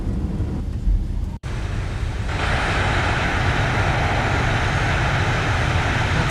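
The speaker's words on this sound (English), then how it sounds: "Max reverse." A Boeing 737-800 in the X-Plane 11 simulator lands and goes to max reverse thrust. The engine sound drops out for a moment, then swells into a loud, sustained roar that keeps building, with no talking.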